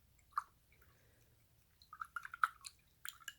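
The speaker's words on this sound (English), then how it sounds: "I gotta go rinse out my paintbrush right now." A paintbrush swishes and taps in a small jar of water while acrylic paint is rinsed off, giving faint, close, sparse watery clicks and splashes that cluster in short bursts between quiet gaps.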